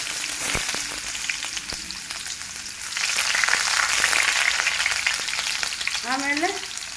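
Mustard and cumin seeds sizzling and crackling in hot oil for carrot curry, a continuous close frying hiss with scattered pops and a stirring scrape, swelling midway, no voices.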